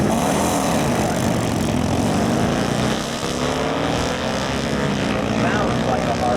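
Pair of motorcycles, including a 1942 Harley-Davidson WLA 45ci flathead stroker, at an antique nationals drag race, a loud continuous engine roar with rising pitch sustained for the whole span, close, with people talking underneath.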